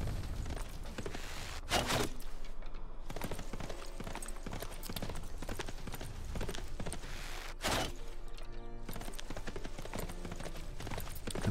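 Dense clip-clop of many horse archers' hooves in a Civilization 6 game rolls on continuously, with a few sharper thuds and clatters mixed into the steady galloping din.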